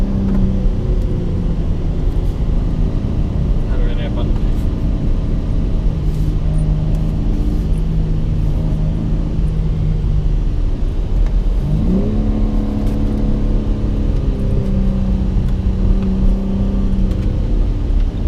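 Cars running laps on the Circuit of the Americas (COTA) race track during a track day, engines droning and revving steadily for the whole stretch, with pitch sweeps as cars accelerate, heard from close by.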